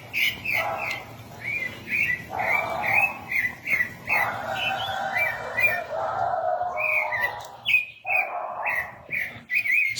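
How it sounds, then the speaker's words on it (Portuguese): Rufous-bellied thrush (sabiá) singing in a yard, a clear run of repeated whistled phrases and chirps with short pauses between them, close and prominent over faint background noise. "Sabiá cantando, olha."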